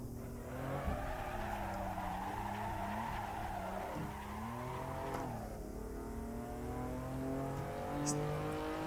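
A drifting car in the Assetto Corsa racing game howls with a sustained engine note that rises and falls, while continuous tire squeal runs under it for the whole stretch, with no voices.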